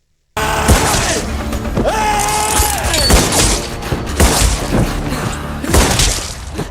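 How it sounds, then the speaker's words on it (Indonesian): Gunfire from an action film scene where the hero shoots five villains: a rapid run of loud cracks and bursts over a dense, busy soundtrack with music and crashing impacts throughout. "Parthi mampu menembak ke-5 penjahat tersebut sekaligus"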